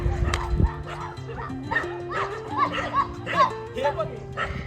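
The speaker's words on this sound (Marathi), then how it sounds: "पाळीव डॉगी दिसला" A pet dog barks repeatedly in short yips and woofs, near and fairly loud, with people talking and laughing around it outdoors by a new badminton court.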